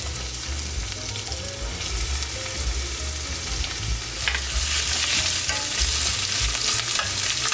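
Onion and ginger fry in a pan for Filipino chicken adobo, a steady loud sizzle with stirring scrapes throughout, growing brighter and more intense toward the end, with no talking.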